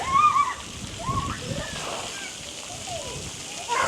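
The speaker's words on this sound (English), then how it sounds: "it's a lovely little water splash park." Water splashes and sloshes at a children's splash park in Gorleston on Sea, Norfolk, with a steady wash of spray, faint children's voices and chatter in the background.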